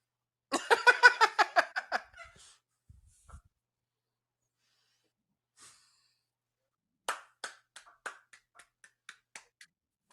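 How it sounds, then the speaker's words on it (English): Faint hand clapping comes in two quick bursts of rapid claps, one near the start and another near the end, separated by near silence and a few soft stray noises. "I was clapping for you."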